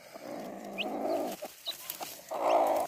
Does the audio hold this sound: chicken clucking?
yes